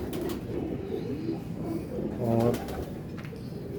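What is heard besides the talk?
pigeon cooing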